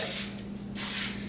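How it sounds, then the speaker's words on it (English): Cooking spray hissed onto a camp griddle in two bursts, a loud bright spray with a short pause between them, close up and without talk. "So I'm going to shake it up and spray my griddle real good."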